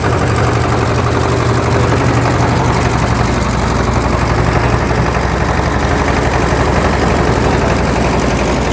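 A trawler boat's engine running on a river, a loud relentless low chugging drone with a fast rattling pulse, heard very close and steady throughout, drowning out everything else.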